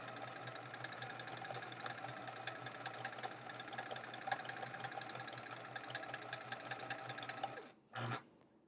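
A sewing machine chain-pieces stacks of quilt pieces with a steady, close mechanical whir and rapid needle rhythm. It runs continuously for most of the stretch, then stops abruptly, followed by a short burst of sound.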